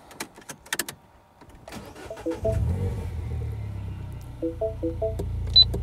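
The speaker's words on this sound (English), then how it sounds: "I'm going to start the car and see if I have any throttle." MINI Cooper engine cranks and catches with a short starter whir, then settles into a low steady idle, with a few clicks and small beeps before and during the start, no talk.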